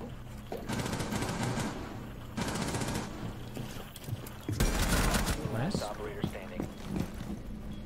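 Gunfire in the Rainbow Six Siege video game: three loud bursts of rapid automatic fire spaced a couple of seconds apart, with game noise and voices in the background.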